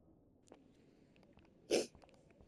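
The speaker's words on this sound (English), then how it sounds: "Sorry, I had to sneeze." A single sharp sneeze from a person bursts out once, fairly close and clearly louder than the quiet room tone around it, with a soft click earlier in the otherwise still background.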